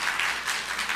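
A church congregation clapping together during Sunday worship after a wedding blessing, a brief burst of many hands with a few soft pulses, moderately loud.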